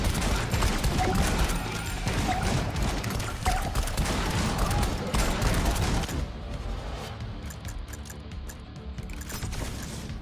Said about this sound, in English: Super shotgun, almost maxed out.